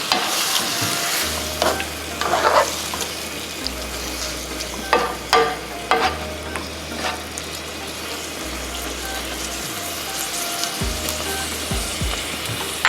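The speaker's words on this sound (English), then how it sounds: "Stir it around." Picadillo of beef and potatoes with a cup of water is stirred in a sizzling pan, with spoon scrapes and clacks against the pan over a steady simmering hiss.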